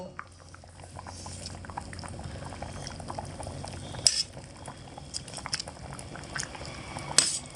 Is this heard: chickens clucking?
no